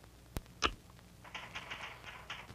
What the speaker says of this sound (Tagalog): Ang ingay-ingay ng makinilya mo, hindi ako makatulog ah!